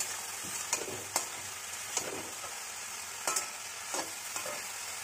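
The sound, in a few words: stirring chopped tomato with salt and turmeric in pan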